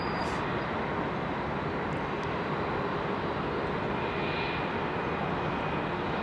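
An ex-KLM Boeing 747 Combi converted freighter at Heathrow, its engines giving a loud steady broadband roar throughout with no talk.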